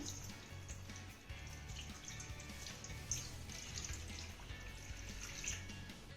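Water runs steadily into a vessel to wash betel leaves, a continuous splashing pour with faint clinks on top, fairly quiet and without voices.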